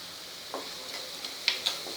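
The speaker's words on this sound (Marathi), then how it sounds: "परतून घ्यायचं आहे." Onion with half a teaspoon of red chili powder sautéing in a pan for homemade pizza sauce: a soft, steady sizzle with a few light stirring scrapes and taps.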